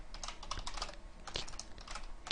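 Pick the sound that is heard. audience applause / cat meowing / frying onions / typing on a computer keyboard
typing on a computer keyboard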